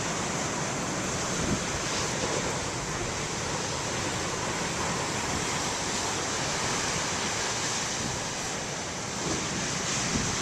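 Ocean waves break in a steady, dense wash of surf mixed with some wind noise, continuous and fairly distant, with no voices.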